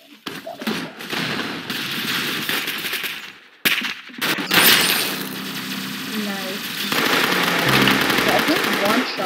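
Wooden gun shots and rapid gunfire from an Arsenal game ring out in loud bursts, joined by other game effects and a short gap of silence partway through.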